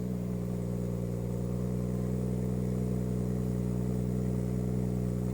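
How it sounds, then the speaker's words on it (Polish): A BMW M140i exhaust burbles after a warm start, a steady low drone with a smooth, even rumble held at constant volume, no one speaking. "Słychać, że wydech sobie mruczy, coś tam bulgocze, ale dość cicho i spokojnie."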